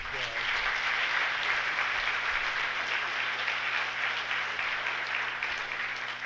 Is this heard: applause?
yes